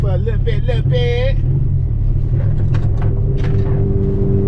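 A turbocharged Honda Civic EF engine drives along a road, its low steady rumble running throughout while a voice talks over the first part.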